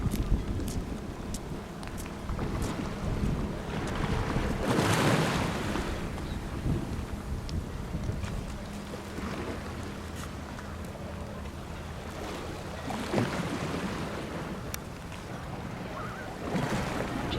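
Light breeze buffets the microphone over a steady wash of sea and distant boat noise off a Palmanova beach, with a few louder gusts and faint water movement, no talking.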